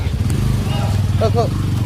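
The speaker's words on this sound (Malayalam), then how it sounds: "ബൈക്ക്" A motorcycle engine drones steadily nearby with a low, continuous hum as it passes, partly under people talking.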